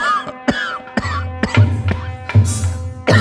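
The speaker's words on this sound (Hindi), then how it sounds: "सोई एकदम खांसी आ गई।" A storyteller coughs and clears his throat in several sharp, close bursts that come in quick succession, loud and up front.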